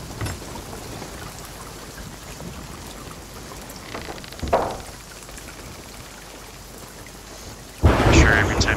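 A thunderstorm with rain at sea in the Sea of Thieves game: constant rainfall with a mid-clip rumble and a loud, close thunder crack near the end.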